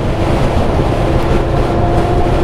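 A Yamaha Vmax motorcycle engine produces a loud, steady, deep rumble with a faint tonal whine on top, close up and unbroken, with no voices.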